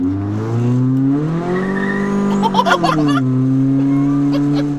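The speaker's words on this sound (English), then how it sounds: "I don't know if you guys could hear that when I got on the button that actually spun the tires" Nitrous-fed Hyundai on a dyno, engine holding a loud steady drone that climbs in pitch, with a brief chattering burst as the tires spin before the revs settle back down.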